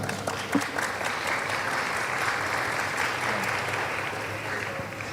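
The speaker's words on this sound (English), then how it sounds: "give applause to the student of SMA Pradita Dirgantara" A school audience gives sustained, even applause for students from a high school, a continuous wash of clapping heard from within the crowd, with faint voices mixed in.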